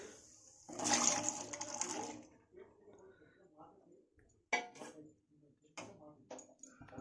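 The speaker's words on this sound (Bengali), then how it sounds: "এই জল শুদ্ধই আমি ঢেলে দেবো এর মধ্যে।" Boiled chickpeas and their cooking water pour into a pan for Bengali-style chana masala, a close, sloshing splash that lasts about a second and a half, followed by quieter clinks and stirring.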